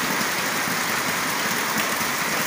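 Rain falling on the Pernambuco coast, a steady, loud broadband hiss that holds without a break and carries no voices.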